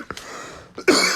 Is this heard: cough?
yes